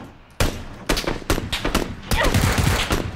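Gunfire in the video game PUBG, loud sharp shots in several bursts, a single crack then rapid volleys close together, ending in a sustained spray of fire.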